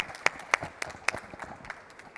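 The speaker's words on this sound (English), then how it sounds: "Please, a round of applause for Stefanie Brickwede." At a conference industrial panel, a small audience gives brief, scattered handclaps: a handful of distinct, moderately loud claps with uneven spacing that quickly thin out.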